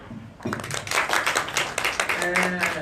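Audience clapping for a young presenter at a Thai workshop on health product surveillance, steady dense applause under a voice talking over it.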